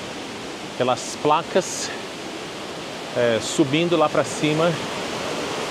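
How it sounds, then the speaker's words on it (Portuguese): A small waterfall beside a temple path in Fukuoka, Japan, pours in a steady hiss under a person talking. "Aqui do lado uma cachoeirinha caindo."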